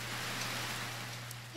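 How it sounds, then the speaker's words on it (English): Steady rain falls in the video game Harvest Moon: Grand Bazaar, an even, hissing wash of raindrops with a faint low hum underneath, continuous and unbroken throughout. "it's rain, it's the song of my people, these raindrops on the ground"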